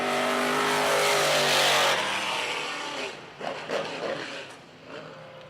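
Race cars roaring around the Mohawk Raceway oval during a hot lap session, a loud sustained engine drone that fades slightly as the cars pass and pull away, with no talk.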